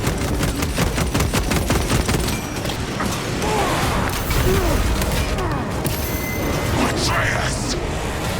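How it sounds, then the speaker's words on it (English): Dense bursts of rapid automatic gunfire fill a Warhammer 40,000: Space Marine 2 battle, with a frag grenade blast and clattering mechanical effects mixed in, while game voices speak over the combat. "Frag grenade deployed."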